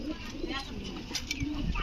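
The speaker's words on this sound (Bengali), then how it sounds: "দেখুন কত সুন্দর কবুতর, আলহামদুলিল্লাহ।" Pigeons on a farm coo softly and repeatedly at close range, low rolling calls that rise and fall, with a voice faintly present in the background.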